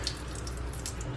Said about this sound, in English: So excess water, we just drain it up,